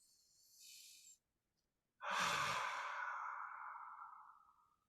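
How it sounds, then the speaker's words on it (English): A slow, deep breath during a guided sound-healing session: a soft airy inhale, a brief pause, then a long, full exhale that fades gradually, close and alone. "So we'll take a nice deep breath."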